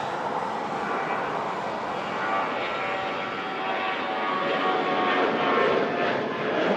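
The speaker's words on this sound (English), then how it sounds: "variant of the Boeing airliner there" A Boeing airliner's engines roar steadily at Manchester Airport, a loud, sustained, slightly rising drone with no voices over it.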